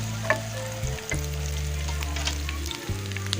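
Ten to twelve green chilies frying in a pan, a steady low sizzle with occasional light stirring clicks under a constant low hum, no voices.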